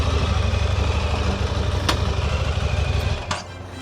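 A brand-new Aprilia Tuareg motorcycle with zero kilometres idles up close, a loud steady low rumble with a couple of brief clicks before it eases off near the end.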